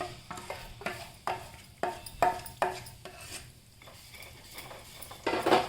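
A spoon stirs sesame paste into a thick besan vada mixture in a pan over low heat, giving repeated close scraping and rubbing strokes in an uneven rhythm with faint sizzling underneath.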